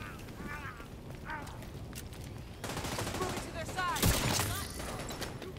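Gunfire in the shooter game The Division 2 from a sniper and assault rifle headshot build, a few sharp shots and bursts under ambient game noise, with someone talking faintly.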